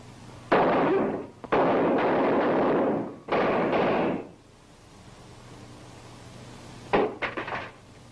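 Several loud gunshots sound in a 1936 crime drama, three heavy booming blasts with long echoing tails in quick succession, then a pause before a final cluster of sharper, shorter shots.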